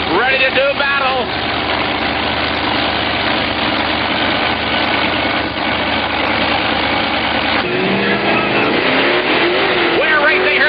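Monster truck engines, the Ford Bigfoot and the Chevrolet Star Monster, roar continuously at an arena event, a loud steady throaty rumble with revving surges near the end.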